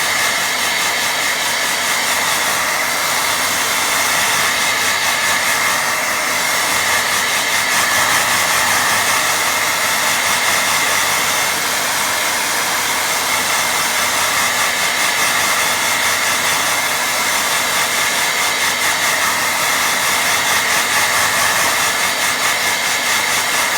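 Hair dryer blowing on a watercolour painting, a loud continuous rushing hiss with a steady motor hum that holds unchanged and close for the whole stretch, with no talking.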